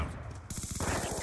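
Rapid automatic gunfire in the multiplayer video game Call of Duty Black Ops 2, a fast rhythmic burst of shots, loud and close amid other game sounds.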